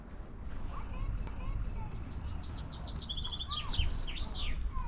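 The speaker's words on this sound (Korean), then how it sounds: "이거 새소리 효과음 아니고 실제 새소리고요" Small birds chirp and trill in quick repeated phrases in a forest in Chamonix, France, over a soft outdoor background hum, fairly distant and gentle.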